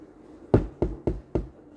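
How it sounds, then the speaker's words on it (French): Four crisp knocks rap on a door, one then a pause followed by three evenly spaced raps, close and clear against a quiet background. "Qui c'est qui frappe?"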